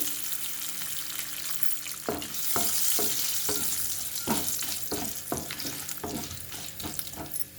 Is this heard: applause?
no